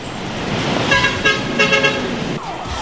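Heavy road traffic on EDSA in Metro Manila, with engines rumbling close by and several short car horn toots clustered in the middle, one sounding a little farther off.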